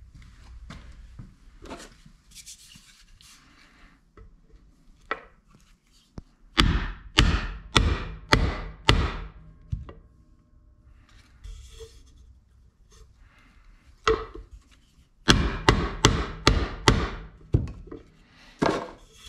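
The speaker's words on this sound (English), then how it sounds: "hammer that thing home." Two bursts of sharp, rapid hammer blows ring out on metal, driving a seal into a 5.3 LS engine's front cover, each a quick series of about seven to eight strikes, with quiet handling between.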